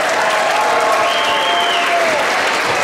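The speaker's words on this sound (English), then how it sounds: "Would we all be able to give them a loud round of applause?" A concert audience applauds loudly and continuously, a dense wash of clapping from a large crowd with no pause.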